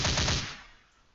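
A sniper rifle shot in a self-made first-person shooter game: one short, punchy gunshot with a quick rattling tail that fades out within about a second, alone and without talk.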